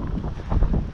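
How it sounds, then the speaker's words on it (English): Gusty wind buffeting a microphone at an allotment garden, a low rumbling roar that swells briefly near the end, with no voices. "So it's very windy"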